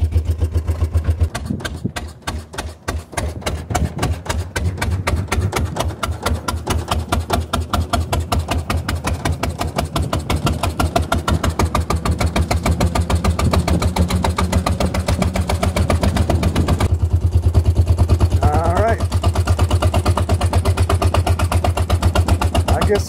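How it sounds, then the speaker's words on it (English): A 1906 Sizaire-Naudin voiturette's engine chugs loudly and steadily while the car is driven, with an even pulsing beat that shifts and quickens as gears change, and voices talking over it now and then. "Changing gears in the middle of the intersection, Alan."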